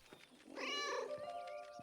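A single chubby cat gives one drawn-out, wavering meow, close and clear, in the wartime game 11-11: Memories Retold, with no talking.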